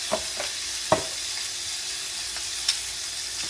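Beef pot roast browns in a hot pan, giving a steady close hiss and sizzle with a few soft clinks and stirring knocks and no talking.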